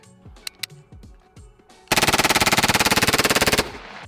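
APC9K select-fire submachine gun firing, a few scattered single shots followed by a loud, rapid full-auto burst of roughly two seconds, very fast even rhythm, close and dominant.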